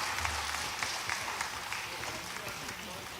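An audience claps at a political rally, a broad sustained patter of applause from a crowd, moderately loud and steady throughout.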